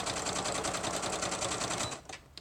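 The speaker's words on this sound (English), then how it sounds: "to hold it in place I'll be sewing fairly close to the edge" A sewing machine stitching close to the edge of layered paper and fabric, a rapid even mechanical chatter of needle strokes running steadily, then stopping, followed by a couple of faint clicks.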